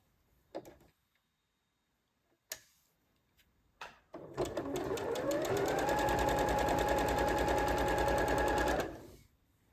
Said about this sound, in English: So let's go to the machine and get these stitched together.